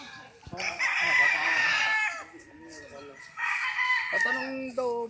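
Fighting cocks crow loudly nearby, two full cock-a-doodle-doo calls separated by a short pause, with clucks and a low background voice.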